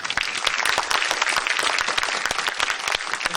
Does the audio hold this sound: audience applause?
yes